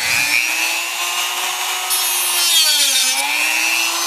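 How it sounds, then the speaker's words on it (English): A Dremel rotary tool cuts a slot partway into an IBM Selectric III typewriter paper guide slider, a steady high whine with a shifting pitch as the bit bites, close and continuous with no talk. "I'm going to cut that, but not only about halfway through with the Dremel tool"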